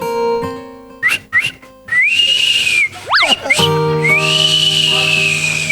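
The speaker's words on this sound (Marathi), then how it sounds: "तुला ही शिट्टी आठवते?" Clear human whistling in short rising chirps, then long sustained tones with a quick swooping slide between them, close and prominent over a faint background.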